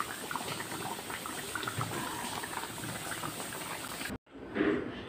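Salmon head asam pedas simmering in a pot, a steady close bubbling and gurgling that runs evenly for about four seconds before a brief cut, then resumes softer.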